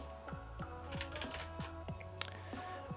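Fingers tap quickly on a computer keyboard while coding, a steady run of close, crisp keystrokes over a faint background hum.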